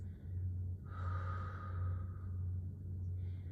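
A woman breathes out in a long, audible, focused exhale during a postpartum active-recovery workout. The breath sounds close and airy, rising and falling over a low steady hum, and no one speaks.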